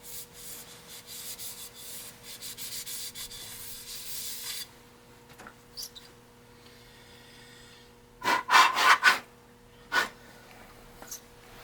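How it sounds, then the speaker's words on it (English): Scotch-Brite pad scrubbing a metal rocker-arm rod from a Ford 172 diesel engine, a soft rubbing at first, then a burst of sharper, louder scrubbing strokes near the end. "I'm just gonna take a little bit of Scotch-Brite and just kind of clean it up a little bit"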